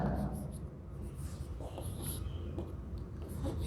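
Marker or chalk writing on a board during a maths lesson on sets, faint steady scratching strokes over a low room background, with soft breathing audible.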